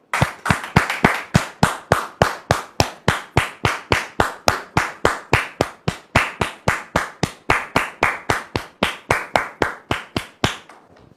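Rhythmic, evenly spaced clapping from a studio audience greeting a guest on a talk show, about three sharp claps per second, loud and close, fading slightly at the end with no voices.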